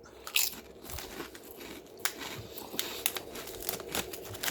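Close crunching bites of salty Japanese rice chips, a run of irregular crisp cracks and crinkles, quiet and with no talking.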